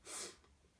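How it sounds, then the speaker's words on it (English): A single short sneeze, close and breathy, fading quickly into quiet. "I'm going to sneeze, apologies."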